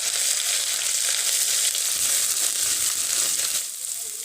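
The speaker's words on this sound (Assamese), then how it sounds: "এতিয়া দিম মই ইয়া নহৰু পেষ্টখিনি, আদা পেষ্ট আৰু এইখিনি অকণমান এতিয়া মই ভাজি ল'ম" Ginger and garlic paste sizzles in hot oil in a pan, close and loud, as a steady hiss with a little crackle. It eases off slightly near the end.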